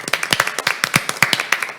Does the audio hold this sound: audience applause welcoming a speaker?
yes